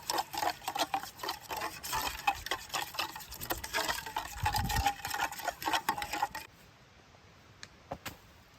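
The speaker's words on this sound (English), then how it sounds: "let's give that a stir" Barbecue sauce stirred in a Dutch oven, producing a rapid run of close scraping and clicking spoon strokes against the pot that stops suddenly, followed by a couple of faint ticks, with no talking.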